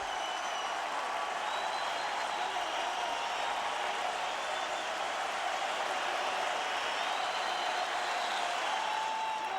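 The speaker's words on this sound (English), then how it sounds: "Crowd on its feet again." A large baseball stadium crowd at a Cubs versus Cardinals game in Chicago cheering and applauding steadily, a dense, continuous roar of clapping and voices that stays even throughout.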